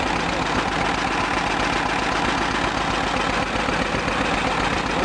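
A T-16 tractor engine idling steadily after starting, a low, even, rhythmic chug with constant loudness throughout, close by and with no other sounds over it.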